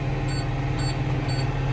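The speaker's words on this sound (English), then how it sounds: "it did a single beep, letting me know that, hey, you're almost full" Hay baler monitor in a tractor cab beeping as the bale nears full: three short, high, evenly spaced beeps over loud steady engine and machinery rumble.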